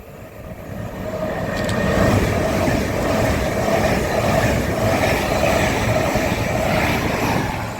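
Class 803 unit 803003 in Pride livery roars through Grantham station on the East Coast Main Line, a loud, sustained rumble that stays near and steady from start to finish with a faint whine above it.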